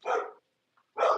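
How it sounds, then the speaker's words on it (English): Two loud, close dog barks about a second apart in a home, each short and sharp with a brief silence between them. "Sorry, my dogs are going crazy."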